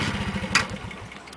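A 1998 Honda 50cc motorcycle idles just after a cold start, its small engine putting out a close, steady low putter with a brief sharp clack partway through.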